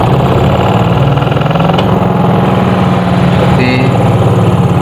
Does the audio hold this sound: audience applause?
no